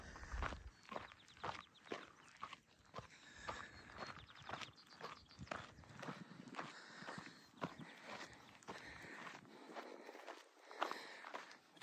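Footsteps of a runner on a morning dirt trail, a steady quick rhythm of close, firm foot strikes continuing throughout, with faint outdoor ambience behind.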